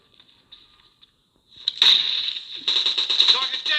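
Gunfire in the video game PUBG Mobile, a 4v4 mode match, comes as sharp rapid bursts after a few faint ticks, with automatic fire rattling repeatedly near the end.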